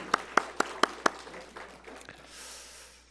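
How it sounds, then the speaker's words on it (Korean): A church congregation gives a few sharp, evenly spaced claps, about five distinct hand claps close together, which quickly die away into quiet room noise. "영광의 박수를 하나님께 드립니다"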